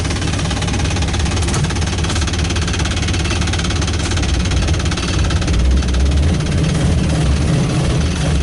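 A 1959 Ford Fairlane 500 Galaxy engine, running for the first time in over 20 years, drones loudly and steadily with a low knocking throb as the car is put into forward gear, heard up close and alone.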